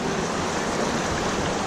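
River rapids rush around a raft in Rishikesh, a dense, steady roar of churning water that stays loud and close the whole time, with no talking.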